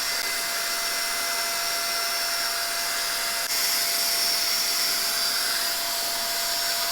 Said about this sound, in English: The dryer part does work really good, and it heats up.